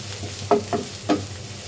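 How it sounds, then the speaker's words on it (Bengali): Oil poured into a pan while cooking dried taki fish shutki bhuna, with a steady frying hiss and three brief bursts of stirring or splashing, close by. "দিয়ে দিচ্ছি তেল।"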